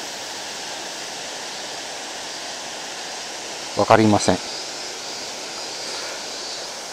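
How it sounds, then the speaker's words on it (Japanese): Spring water flows steadily beside a mountain road near the Dainichi River dam, a constant rushing hiss with one brief spoken remark in the middle. "この辺湧き水出てますよ"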